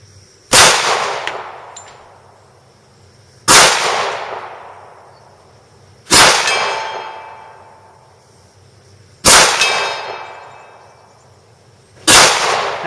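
Springfield XDM .45 ACP pistol fired outdoors, five loud, sharp single shots spaced about three seconds apart, each followed by a long fading echo.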